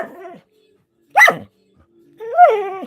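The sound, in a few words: dog barking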